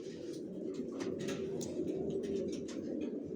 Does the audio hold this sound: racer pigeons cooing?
yes